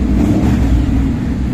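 A Honda X-ADV 750 motorcycle engine revs under throttle, a loud close rumbling growl held briefly without talk.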